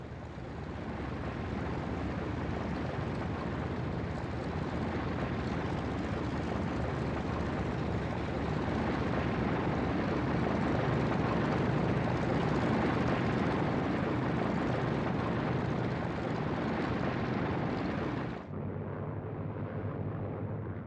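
Engines of a B-29 bomber drone in flight, a loud, dense, continuous roar that holds steady for about eighteen seconds before cutting to a quieter, lower hum, with no voices.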